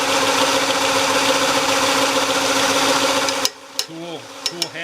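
A wood lathe spinning at about 1,000 RPM while a spindle is skimmed with a roughing gouge, a loud steady hum that cuts off abruptly, followed by a few sharp clicks and a voice.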